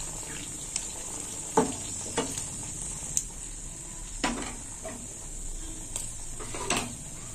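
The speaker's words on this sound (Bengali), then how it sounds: "ফোড়নটা একটু ভাজা হোক" Nigella seeds and dried chilli frying in hot oil, a soft steady sizzle with a handful of sharp crackles and clinks scattered through it, fairly quiet and close, no voices.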